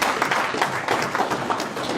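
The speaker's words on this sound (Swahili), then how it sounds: "Makofi kwenu wote." Applause from an audience at a district council meeting in Kasulu, a steady close patter of many hands clapping at once, with no speech.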